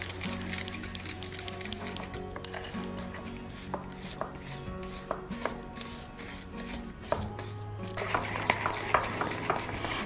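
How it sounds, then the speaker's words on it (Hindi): Sugar and ghee being beaten until white in a bowl for baked sweet mathri, heard as quick, rhythmic clinks and scrapes of a spoon against the bowl, close and continuous with brief pauses. "हमने जो चीनी और घी को मिक्स किया था उसे अच्छी प्रकार से बिल्कुल वाइट होने तक फेंट लिया है"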